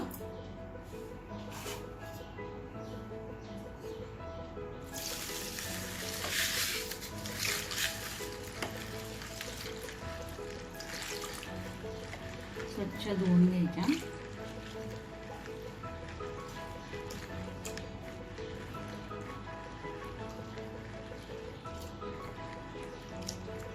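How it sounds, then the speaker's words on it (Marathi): Black urad dal and moong dal are rinsed in water in a home kitchen, giving faint, intermittent sloshing and dripping with a few louder splashy bursts, quiet and close. "धुवून घ्यायच्या पाण्याने स्वच्छ"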